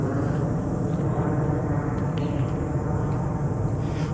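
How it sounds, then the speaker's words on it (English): A plane passes overhead as a continuous low, even rumble that stays steady for the whole stretch during an outdoor walk along a river, with no voices. "Here's a plane all in the sky. I missed it, but you can hear the sound."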